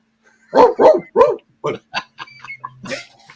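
A dog barks loudly and close by: three strong barks in quick succession, then a string of shorter, softer yips and woofs trailing off.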